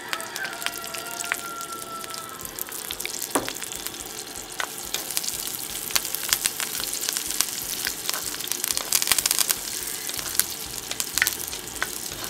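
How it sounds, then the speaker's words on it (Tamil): Onions and curry leaves frying in a pan for a Jaffna-style long bean curry, a dense continuous sizzle and crackle with scattered sharp pops, steady and close with no voices. "வெங்காயம், கருவேப்பிலை போடுவோம்."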